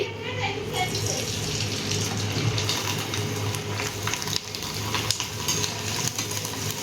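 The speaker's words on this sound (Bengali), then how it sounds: "আর এক সাইডে আমি এখন একটু পাপড় ফ্রাই করবো" Sabudana papad frying in hot oil in a home kitchen: a steady, loud hiss and crackle of bubbling oil that runs the whole time, with small pops and spits scattered through it.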